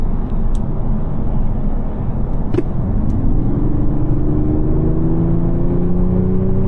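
A Mercedes E 450d with a 3.0 inline-six diesel accelerates hard in Sport mode on a highway, the engine note rising steadily in pitch over constant road and tire roar, heard from inside the cabin.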